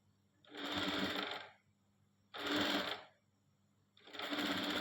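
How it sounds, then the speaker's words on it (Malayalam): Three separate bursts from a sewing machine stitching a single fold along a kaftan nighty, each run lasting about a second with quiet pauses between, close and steady. "ഒരു മടക്കിലേക്ക് ഞങ്ങൾ സ്റ്റിച്ച് ചെയ്ത് കൊടുക്കണം."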